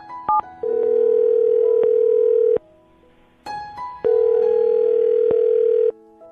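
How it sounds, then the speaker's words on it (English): A telephone call being placed on a radio show: quick dialing beeps, then two long, steady ringback tones separated by a short pause, clear and alone without talk. "I'm going to dial him right now, get him on the phone"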